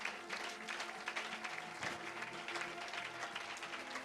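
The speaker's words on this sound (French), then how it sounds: "Est-ce qu'on pouvait l'encourager par les acclamations?" A church congregation gives dense, steady applause that fills the room, a continuous wash of many hands clapping together without voices rising above it.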